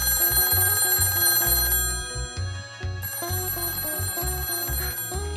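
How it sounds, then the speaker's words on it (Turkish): A toy telephone rings in a Baby Born doll care game, sounding as a run of repeated electronic ring pulses over steady background music, fairly loud and close. "Telefon çalıyor."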